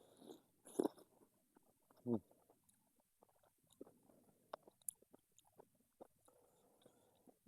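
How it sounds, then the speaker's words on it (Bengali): Close, soft chewing of boiled radish soaked in broth, with a few wet bites and crunches scattered over several seconds while a voice murmurs faintly in between. "এইখানে এখানে ভিজিয়ে আমি খাচ্ছি"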